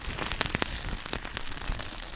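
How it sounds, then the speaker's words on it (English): Rain pattering on a tarp over an emergency bivvy at a camp in the Peruvian Andes, a dense steady patter with a few sharper drops standing out close by. "Trying to fucking wait out this rain so I can set my shit up."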